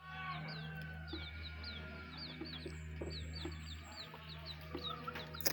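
A chicken clucks softly and repeatedly in the rain, its short calls rising faintly over a steady, low background of rainfall.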